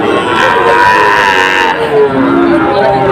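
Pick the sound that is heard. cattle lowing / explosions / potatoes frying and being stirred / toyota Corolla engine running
cattle lowing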